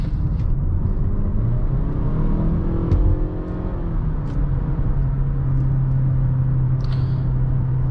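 A 2020 Mazda CX-5 family crossover with a six-speed automatic cruises down the road, heard from inside the cabin as a loud, steady low engine and road rumble with a constant whir and no talking.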